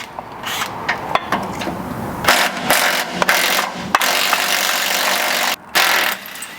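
An impact gun undoes a 12 mm bolt during a lift kit install on a 79 Series, with loud close bursts of rapid mechanical rattling hammering, several short runs separated by brief pauses, no talk.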